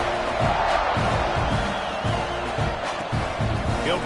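Football stadium crowd roaring steadily during a kickoff return, a dense wall of cheering and noise that stays loud throughout, with scattered shouts rising above it.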